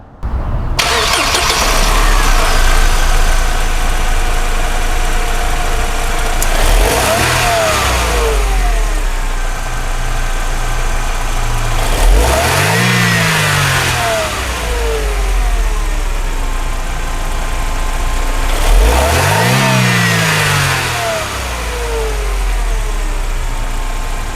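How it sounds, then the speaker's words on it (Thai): A Mercedes-Benz W210 engine idles steadily, then revs up sharply three times, each rise climbing and falling back to idle, loud and close. "มาฟังเสียงเครื่องยนต์กัน"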